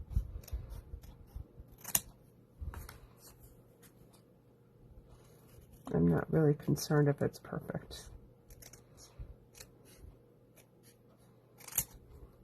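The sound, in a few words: scissors cutting card paper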